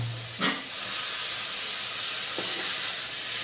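Boiled sweet corn kernels cooking in a pan with sugar give off a steady, loud steamy sizzle and hiss, broken by a couple of brief stirring scrapes.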